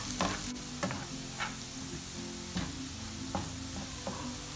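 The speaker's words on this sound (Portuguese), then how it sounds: "Já podemos entrar com alho, deixar ele dourar um pouquinho." Garlic sizzles with onion in a pan while it browns. The frying hiss stays soft and steady, with a few louder scraping stirs spaced every second or so and no voices.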